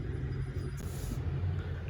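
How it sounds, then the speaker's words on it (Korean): Traffic jam on a road, a low steady rumble of idling and creeping cars, continuous and moderately loud with a brief brighter swell partway through, no voices. "교통체증."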